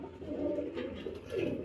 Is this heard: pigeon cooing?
yes